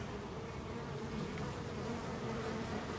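Honeybees buzz steadily around a syrup feeder, a continuous close-up droning hum of many wings that stays even and unbroken throughout, with no voices.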